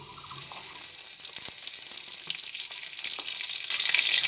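Whole cumin seeds and a dried red chilli hit hot oil for a tempering, giving a steady, close, crackling sizzle that builds slightly louder toward the end.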